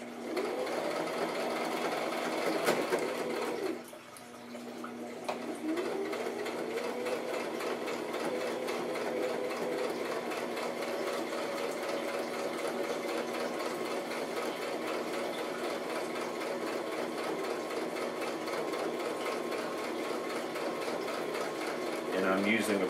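Sewing machine stitching a handmade handbag seam slowly, with back stitching at the start: a steady, continuous mechanical whir running close and loud throughout, briefly dipping near the start before resuming at an even pace.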